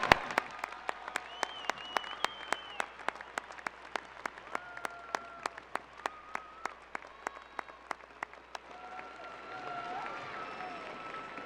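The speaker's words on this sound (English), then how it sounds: "Graduates, let's give those who supported you a big round of applause." A university commencement audience breaks into sustained applause, a dense wash of clapping with sharp close claps standing out, fading slightly toward the end.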